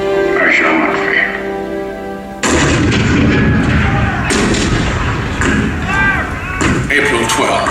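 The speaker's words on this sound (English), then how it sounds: "The cannon spoke for war, bitter, violent, and devastating." Cannon fire booms in the Hall of Presidents show narration about Fort Sumter in 1861, a loud heavy blast rumbling under a dramatic soundtrack with swelling music and narration around it.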